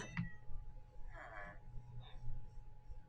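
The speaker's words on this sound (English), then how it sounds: "I don't want a kitty in here" A cat meows once in Minecraft, a short whiny call rising over a low background rumble, with a faint click just before it and softer noises following.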